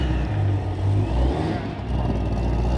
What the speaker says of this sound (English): It's Corvette, but it was leaving